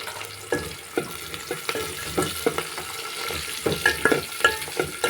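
Green chillies and curry leaves fry in hot oil in a pan for a potato curry, a steady sizzle broken by repeated scraping stirs. Close and continuous, no voices.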